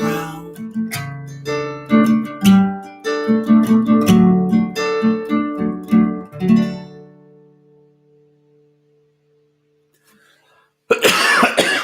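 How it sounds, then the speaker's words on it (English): Ringing musical notes from a live concert play and fade into silence, then a single sharp cough bursts out close by at the very end. "Had to cough right in the middle of that one."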